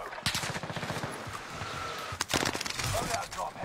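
Video game firefight with bursts of rapid automatic gunfire, dense rattling volleys starting early and again near the end, loud and up close, with players talking over it.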